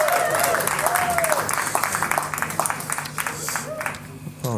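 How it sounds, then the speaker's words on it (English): Audience applauding for a performer at a live music show, steady clapping throughout with music and crowd noise mixed in, tapering near the end. "please, guys, a big round of applause"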